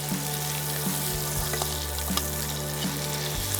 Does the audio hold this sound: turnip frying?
yes